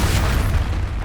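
An Expulso spell in Hogwarts Legacy detonates as a short, heavy, low boom with a rumbling tail, loud and close during a duel.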